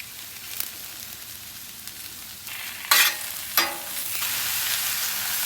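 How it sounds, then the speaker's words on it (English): Mushrooms sautéing in a little oil on a hot flat-top griddle, a steady close sizzle that flares louder in two sharp bursts as they are stirred, then settles into a fuller hiss. "Just add just a little bit of oil down. Just start sauteing your mushrooms."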